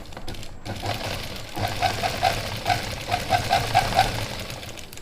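A sewing machine runs in steady bursts while stitching a suit, its rapid needle clatter close and fairly loud, picking up speed and pausing briefly.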